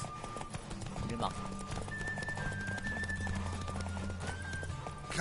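Galloping horse hooves in the video game The Witcher 3, a steady clip-clop rhythm with a horse's whinny partway through, heard under music and occasional speech.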